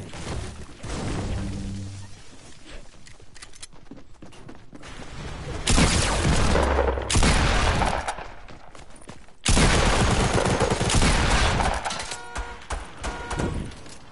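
Rapid bursts of gunfire in a multiplayer video game, loud and close, arriving in dense volleys separated by brief lulls and heavy impacts over roughly fourteen seconds.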